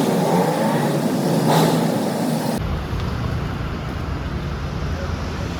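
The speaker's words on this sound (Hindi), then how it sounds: "आज पूरा ट्रैफिक भीड़ पूरा जमा हो गया है" Heavy road traffic crowds a street in Arunachal Pradesh during a prime ministerial visit, a steady loud roar of engines and rushing vehicles that shifts to a deeper rumble partway through, with no clear voices.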